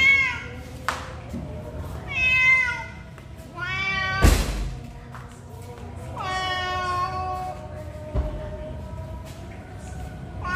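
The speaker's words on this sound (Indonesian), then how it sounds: "kucing kecil nih, baby nih, kitten nih" A small kitten, abandoned in front of a roadside food stall in Indonesia, meows repeatedly and insistently, loud and close, with one sharp thump partway through and no talking.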